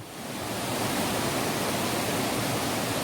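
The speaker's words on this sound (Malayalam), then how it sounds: "തോട് മൊത്തം അങ്ങോട്ടേക്ക് ഒഴുകി പോകുന്നുണ്ട്" A forest stream rushes on toward a waterfall inside a dark cave, a dense, steady wash of flowing water that swells slightly at the start and then holds loud and even.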